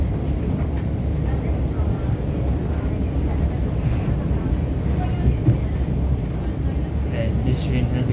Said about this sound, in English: you can see the trains are going slower than normal on this track